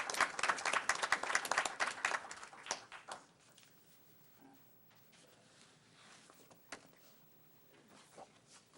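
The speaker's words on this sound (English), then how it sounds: "Let's all give them a round of applause." Applause from the audience at a township council meeting in Franklin Township, Somerset County, New Jersey, a burst of many hands clapping that fades after about three seconds into quiet room noise with scattered claps.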